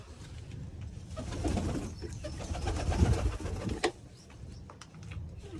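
Pigeons coo softly in a continuous low murmur, with a sharp clatter near the middle and faint chirps from other birds in the background.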